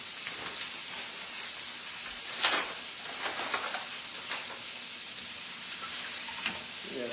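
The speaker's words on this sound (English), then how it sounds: "Sausage is going to take some time to cook for sure." Sausage cooks in a pan with a soft, constant hiss of sizzling fat, with a few faint clicks and pops over it.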